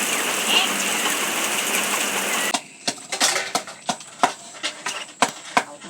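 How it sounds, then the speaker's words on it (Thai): Heavy rain falls in a dense steady hiss for a couple of seconds, then stops abruptly, leaving scattered loud drips and knocks close by. "ฝนตกพี่น้องเอ้ย"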